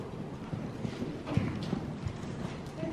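A horse's hooves clop steadily on an arena surface during a riding lesson, a rhythmic, moderately close walking beat over low background noise.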